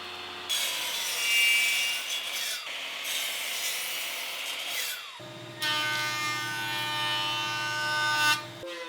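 Adhesive-backed sandpaper on a sanding disc grinds against wood in three long, loud, whooshing passes, each rising and falling with brief pauses between, close and with no talking.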